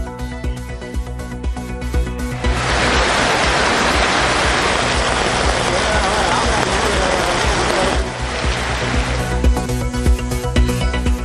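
Heavy rain pours across Thiruthuraipoondi and Alathambadi in Thiruvarur district, a dense, steady roaring wash that swells louder after the first couple of seconds and continues without speech.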